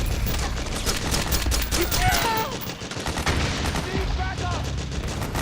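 Gunfire in the video game Metal Gear Solid 4, dense bursts of rapid machine-gun and rifle shots in a continuous loud fusillade, with shouted voices mixed into the battle.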